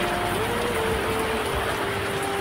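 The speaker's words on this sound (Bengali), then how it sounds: "দেখো কত পরিমাণে বৃষ্টি হচ্ছে" Heavy rain pouring outside a shop during a downpour, a dense, unbroken hiss of falling water close at hand, with a faint steady tone running underneath throughout.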